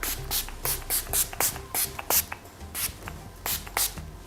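A hair refresh spray being sprayed in quick repeated hissing bursts, roughly a dozen short puffs in an uneven rhythm, close and fairly loud with no talk.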